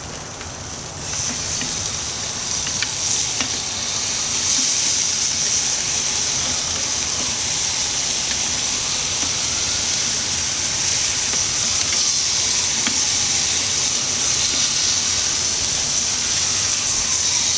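Hawaiian style short ribs sizzling on a grill as they are flipped, a broad steady hiss with scattered pops and crackles that swells after the first second and stays constant, no talking.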